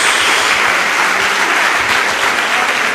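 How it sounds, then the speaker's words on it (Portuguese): A church congregation claps in a dense, loud, sustained burst that fills the room throughout, with no gaps and only faint voices underneath. "Uma salva de palmas ao Senhor."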